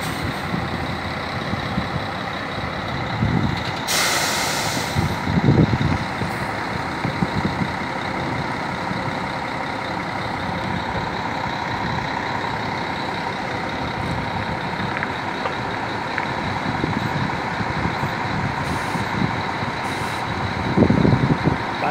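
A Marcopolo G7 1600LD coach idles and moves at Brasília's interstate bus station, a loud steady diesel rumble with a short burst of air-brake hiss and a few faint beeps in the station background.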